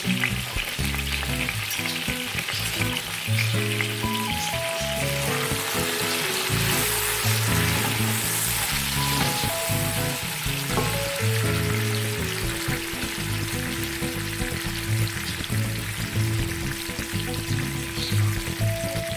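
Onions sizzle and fry steadily in hot oil for chicken yakhni pulao, a dense continuous crackle that lasts throughout at close range with no voices.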